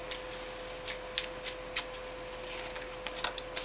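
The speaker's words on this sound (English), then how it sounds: "What I'm going to do is I'm just going to give it a shuffle." A regular deck of playing cards is shuffled in a quick riffle, a steady run of crisp flutters and snaps close by, with no talking.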